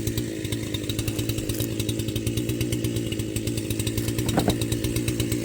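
A Makita EA7900P chainsaw fitted with a Husqvarna C83 chain on a Husqvarna X-Tough bar cuts through dirty logs, its engine roaring steadily and close with a rapid pulsing rhythm throughout.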